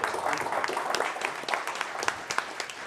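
A large school assembly audience breaks into loud, dense applause and scattered cheering, steady throughout with a few voices rising above the clapping.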